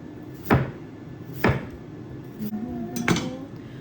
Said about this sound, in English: we're just going to slice it just down to the chopping board, like that